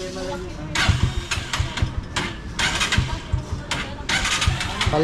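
A motorcycle engine idles roughly and misfires during a tune-up, irregular sputtering bursts and uneven pops close by, with a person talking over it.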